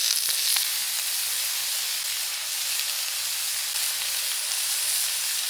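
Cut-up tri-tip steak cooking over a campfire in snowy outdoor conditions, a steady, dense, close sizzle and hiss without pause, no talk.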